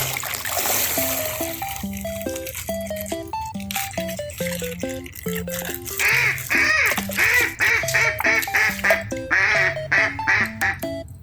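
A duck quacking in a rapid string of nasal calls, loud and close, with the calls bunching into faster, brighter bursts in the second half over a faint background.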